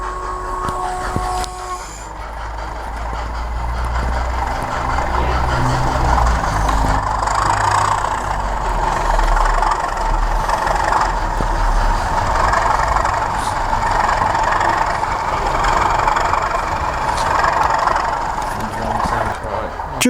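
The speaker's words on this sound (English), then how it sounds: "the train is about to leave." Model railway train leaving a station, a low engine idle that swells into a sustained, steady rumble of motor and running noise, close and loud, with a brief tonal whistle-like sound early on.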